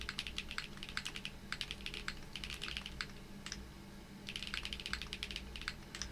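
Fingers type on a mechanical computer keyboard in quick bursts of clicky keystrokes, close and fairly quiet, pausing briefly midway before another flurry resumes.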